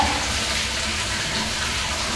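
Shower water runs steadily at a riverside swimming pool at Mangima, a continuous broadband hiss and splash with no voices, close and even in level throughout.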